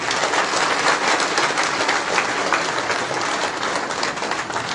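An audience claps in a dense, steady burst of applause that fills the space without pause, with no voices standing out, at the inauguration ceremony of a newly built cow shelter in the Kangehan area.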